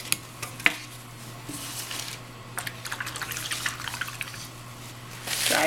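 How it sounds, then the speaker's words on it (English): A paintbrush gets rinsed in a water container during paint mixing, giving brief splashes, clinks and dripping sounds spread across the moment, ending in a louder swish. "I'm going to wash off my paintbrush again"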